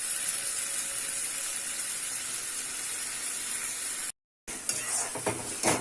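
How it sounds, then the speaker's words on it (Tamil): Tomatoes sauté in a hot pan with a steady, loud hiss and crackle that fills the space, broken by a brief full silence before the sizzle resumes, now with stirring clatter. "நல்லா வதங்கட்டும், கொஞ்சம் நேரம் விடுவோம் வதங்கட்டும்."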